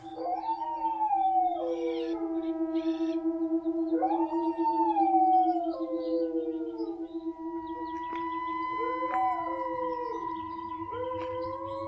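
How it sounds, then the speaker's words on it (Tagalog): Dogs howl outdoors at night in long, wavering, rising-and-falling cries, several voices overlapping over a steady background tone, with no distinct barks. "Nagtatahulan pa yung mga aso sa labas. Yung iba, umaalulong pa."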